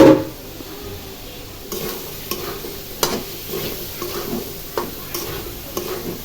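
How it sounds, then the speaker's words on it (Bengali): Dried fish (shutki) cooks in a pan, giving a low constant sizzle with repeated spatula scrapes and stirs at an uneven rhythm, fairly close and without any talk. "শুটকি রান্না করতেছি"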